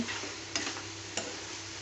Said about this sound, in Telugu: ఒక ఐదు పెద్ద టొమాటోలు వేసుకున్నా ఆరు ఆరు పచ్చిమిరపకాయలు వేసి వేయించుకుంటున్నా